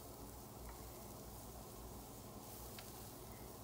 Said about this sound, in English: just add your onion and peppers, sliced peppers. And then, combine everything and then saute